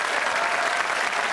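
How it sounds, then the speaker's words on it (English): Studio audience applause on a 1986 British TV game show, a steady, dense burst of many hands clapping that fills the whole moment without pause, with no talk over it. "give a nice round of applause"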